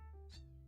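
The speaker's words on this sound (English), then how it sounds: "Yes, you might hear a cat." A young kitten gives a single short meow, faint and brief, over a quiet steady background hum.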